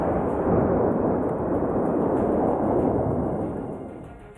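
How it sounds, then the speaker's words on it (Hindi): Explosive charges bring down an old bridge in Pennsylvania, a loud, deep blast that rolls on as a sustained rumble before slowly fading. "विस्फोटक लगाकर एक ही झटके में इस पुल को तोड़ दिया गया।"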